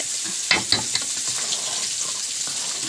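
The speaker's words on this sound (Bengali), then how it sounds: "পায়েসে একটু কম করে ঘুরছি না হলে ভালো করে চালটা ফুটিয়ে ঘেটে যাবে" Payesh, a rice pudding, is stirred in a pot, giving soft wet scraping and bubbling with a few sharper knocks early on over a steady hissy background.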